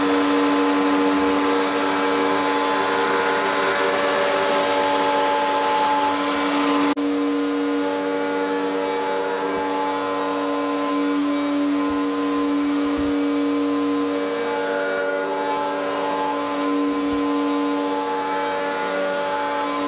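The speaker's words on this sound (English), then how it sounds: "I'm going to do that on the router table. As you can see, I'm running a 45-degree chamfer bit, it's got a bearing on it" A router table fitted with a bearing-guided 45-degree chamfer bit cutting wood for Shaker cabinet doors, a steady loud motor whine that holds for the whole stretch with no talk.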